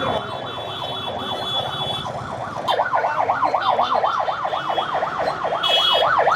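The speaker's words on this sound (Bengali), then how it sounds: "অ্যাম্বুলেন্স যাইতে পারতেছে না।" An ambulance siren wails from a vehicle stuck in traffic, cycling steadily up and down in pitch. It swells noticeably louder partway through and keeps repeating over a low road rumble.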